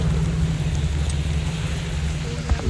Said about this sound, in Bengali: মানে মনে হচ্ছে যেন বরফের বৃষ্টি